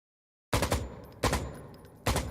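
Gunfire through walls in a competitive online shooter match comes as three separate loud bursts, each a quick rattling volley that decays into a faint tail before the next one starts.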